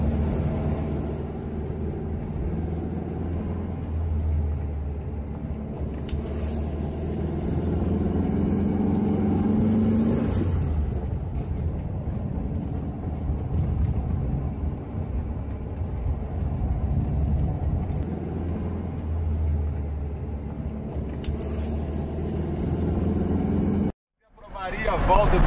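A Volkswagen Beetle (Fusca) engine runs steadily at close range with a low mid-frequency drone and slight revving swells, continuing for most of the stretch before a brief cutoff near the end.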